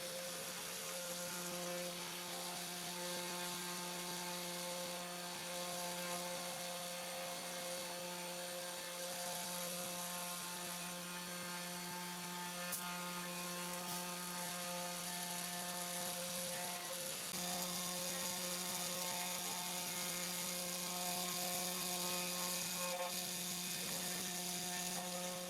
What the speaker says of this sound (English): Next, the PCB is milled using a V-bit.